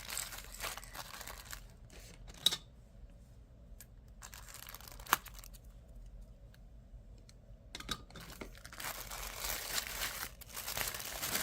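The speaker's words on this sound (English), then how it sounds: "we'll unwrap from our pretty paper" Crinkly tissue paper being unwrapped from a SoftFlex bead design kit, rustling and crackling in uneven spells with a couple of sharp crinkles, a quieter lull in the middle, then louder rustling at the end.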